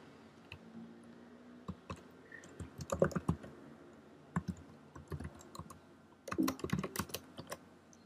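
Keys clatter on a computer keyboard in short irregular bursts and single taps, fairly close and clear, while a number is entered into a Python program during a programming lesson; no one speaks.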